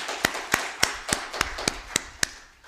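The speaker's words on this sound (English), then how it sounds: "Have a round of applause." Clapping at a Mother's Day church service, heard as about nine sharp, evenly spaced claps in a quick steady rhythm, close and crisp, with no talking over them.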